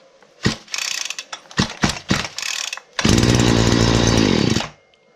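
Stihl FS 40 petrol string trimmer being started: a few sharp pull-cord rasps and clicks, then the engine catches and runs loudly for over a second before cutting out abruptly.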